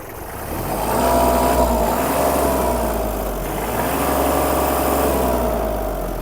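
Three-cylinder engine of a Kubota L1-215 Japanese mini tractor revving up, a steady loud mechanical drone that swells and eases slightly, heard close and alone.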